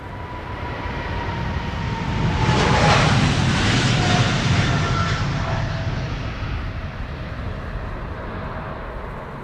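A KLM Boeing 777-300 jet airliner passes at Schiphol in rain showers, a broad roaring wash that swells to a peak around the third second and then slowly fades, loud and steady.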